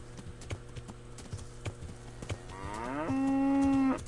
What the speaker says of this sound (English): this is a durable ass cow